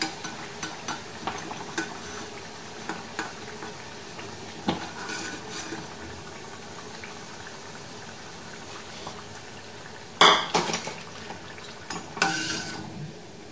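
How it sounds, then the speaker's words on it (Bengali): Neem leaf pakoras finish frying in hot oil and are lifted out, with a soft steady sizzle and scattered stirring clinks, then louder bursts of crackle and scraping near the end. "আমার এই পাকোড়াগুলো ভাজা হয়ে গেছে। এবার আমি এগুলো তুলে নেব।"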